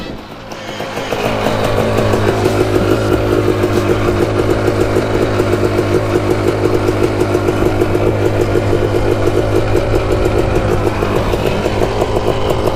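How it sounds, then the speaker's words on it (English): The engine of a Suzuki LT500 Quadzilla quad ATV starts low, then climbs into a loud, close, steady throbbing drone that is heard alone and sustained with a rough, pulsing clatter. "let's take a ride in the Quadzilla and see what that thing sounds like"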